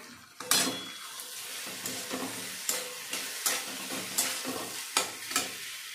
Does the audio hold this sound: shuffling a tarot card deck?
no